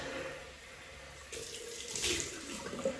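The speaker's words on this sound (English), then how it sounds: "Cold water rinse." Cold tap water runs steadily into a bathroom sink for a rinse after a single-edge razor shave, a close continuous gush that swells a little louder partway through.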